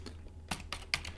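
Computer keyboard typing, a handful of quick, crisp keystrokes in an uneven rhythm, close and fairly quiet, with no voices.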